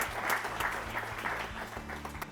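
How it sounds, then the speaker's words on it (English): Audience applause at a school quiz show competition, a steady wash of clapping from a crowd over low background hum, continuous for a couple of seconds without fading. "So let's clap for them, please."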